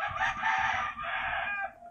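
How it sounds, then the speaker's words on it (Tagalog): A rooster crows once nearby, a loud drawn-out call that rises, holds and then trails off, heard alone with no talking. "ingay ni manok"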